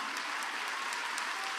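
Church congregation clapping during a worship service, a steady roomy wash of many hands at moderate level with a few sharper claps popping out.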